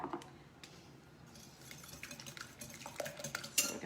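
A spoon stirs seasoning, bacon and tomato in a bowl, producing soft scraping and clinking taps close by, irregular and fairly quiet, with a sharper clink near the end.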